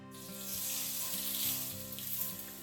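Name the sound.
ribeye steak searing in a thick-based pan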